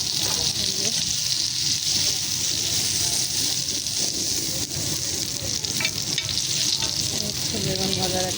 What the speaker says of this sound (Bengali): বেগুন ভাজার একটা অভ্যাস